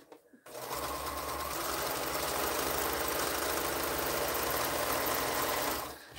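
A sewing machine runs steadily while stitching a quilt piece, a fast even mechanical whir and tick that starts after a brief pause, holds nearly constant, then stops.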